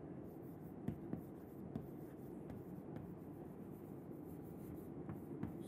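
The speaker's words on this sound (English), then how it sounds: "So let me write it." Quiet scratching of writing on a board during a lecture, soft strokes with a few faint taps over a low room hum, no speech.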